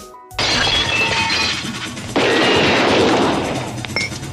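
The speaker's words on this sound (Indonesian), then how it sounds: "Baku tembak pun terjadi antara mereka." Gunfire and crashes in a swimming-pool shootout: a sudden loud burst of shattering and impacts, then a second heavy crash with debris spraying and settling.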